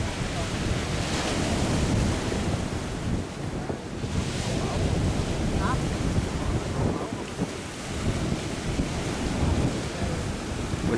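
Sea waves pound in a typhoon (storm number 3) while strong wind roars and buffets the microphone, a loud, continuous rush with surging swells.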